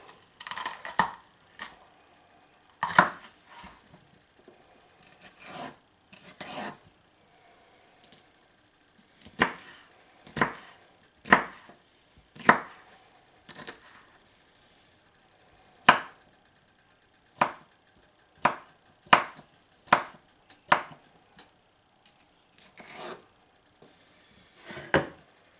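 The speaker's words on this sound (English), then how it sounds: "We're going to keep chopping those, but I'm going to take a break and do some poblano." Knife chopping vegetables and poblano peppers on a cutting board, sharp isolated chops in irregular bursts with short pauses between, close and clear with no talking.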